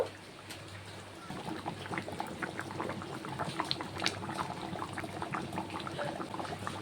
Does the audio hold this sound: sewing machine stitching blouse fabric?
no